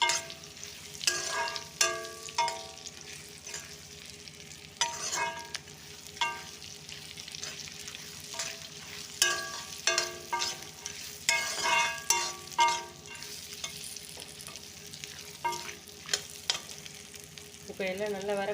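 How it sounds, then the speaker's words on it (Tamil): Ingredients sautéing in ghee for a laddu, a moderate sizzle broken by repeated scraping and clattering stirs of a spoon against the pan at an uneven rhythm. "எல்லாத்தையும் நெய்யில் நல்லா சூடேற அளவுக்கு வதக்கிக்கணும்."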